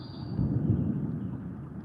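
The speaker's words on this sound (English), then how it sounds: "You usually see the lightning than the thunder." Low rolling thunder rumble during a night storm, deep and continuous, swelling briefly then fading, moderately loud with no voices over it.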